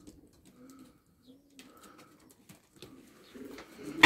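Soft, low cooing from pigeons comes in a few short bursts, close and quiet, with faint rustling and shuffling around them.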